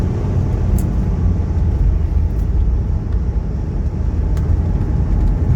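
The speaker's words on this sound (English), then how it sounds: "Kind of spirited driving through here." Interior rumble of a Mercedes 300CD being driven briskly, a constant loud, low engine and road drone with no talking.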